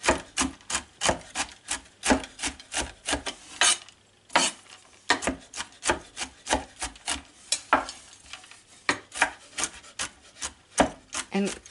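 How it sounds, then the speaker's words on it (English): A knife chops walnuts on a board in a quick, steady run of close, crisp strikes, with a short pause partway through and no talking. "walnuts are lovely to chop because they're so lovely and sort of soft, crisp, very crisp"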